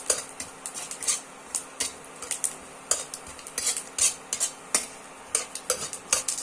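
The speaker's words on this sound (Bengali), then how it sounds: "কড়াইতে এবার দিয়ে দেবো গোটা গরম মশলা," Whole garam masala, bay leaf and cumin crackle in hot oil in a wok, with a low sizzle beneath frequent metallic scrapes and clinks of a spatula stirring, no speech.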